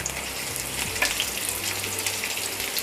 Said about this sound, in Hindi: हल्के हल्के हाथ से हम इसको पनीर को भी हाई फ्लेम पे फ्राई कर लेंगे 1 से 2 मिनट के लिए